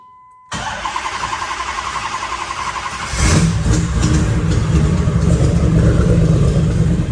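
A car engine starts up in 33-degree cold and settles into a steady idle, then the rumble deepens and grows louder as the car pulls away and drives off. No voices are heard.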